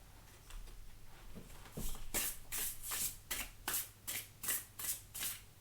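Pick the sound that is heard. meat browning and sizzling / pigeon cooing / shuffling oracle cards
shuffling oracle cards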